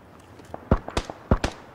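Sharp gunshot cracks in the video game PUBG aimed at a vehicle's tyres, about five quick reports in two close pairs and a single, loud and near with no talking over them.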